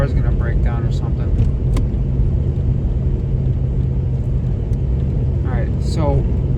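A car suspected of having a fault drives along, its low steady engine and road rumble running continuously beneath a person talking inside the cabin.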